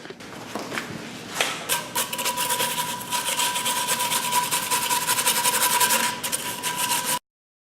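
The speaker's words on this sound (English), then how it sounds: "now we're going to scrub this." Steady abrasive scrubbing of corrosion from the hub face of a BMW Z4 wheel, a continuous rasping rub that runs loud and unbroken for about seven seconds before stopping abruptly.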